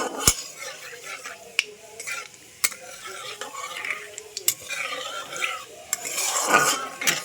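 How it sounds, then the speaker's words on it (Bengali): Nigella seeds frying in oil while being stirred, with repeated sharp clinks of a metal utensil against the pan over a soft, close sizzle. "কালো জিরেটাকে কিছুক্ষণ ভেজে নেব।"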